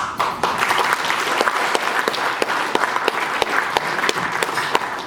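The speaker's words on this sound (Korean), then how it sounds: "국무총리님께 다시 한 번 더 큰 박수 보내주시기 바랍니다" A hall audience at a book launch celebration applauds after a congratulatory speech by a former prime minister, loud, dense clapping with scattered sharper individual claps standing out, steady throughout with no voices.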